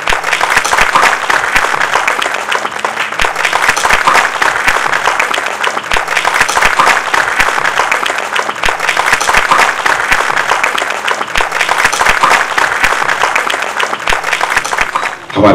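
Loud, sustained applause from the audience at a felicitation and book release event in Bhopal, dense steady clapping filling the hall alone for about fifteen seconds.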